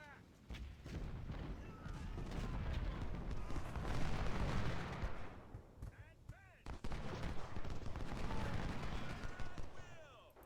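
Cannon and musket fire in the Civil War strategy video game Ultimate General: Civil War at Chickamauga, dense rolling volleys and booming artillery bursts with a short lull midway, under occasional talk.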